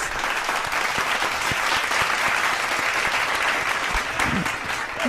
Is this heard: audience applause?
yes